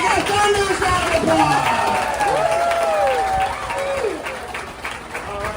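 Applause and cheering from the crowd at a Gatorland show, dense and close, with whistles and shouts sliding across it and voices mixed in, easing slightly near the end.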